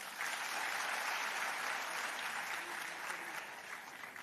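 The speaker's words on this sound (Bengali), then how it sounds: "একটু জোরে হাততালি হোক তার জন্য।" Steady applause from an auditorium audience at a spring festival, sustained clapping at moderate volume that holds throughout and eases slightly toward the end, with no voices over it.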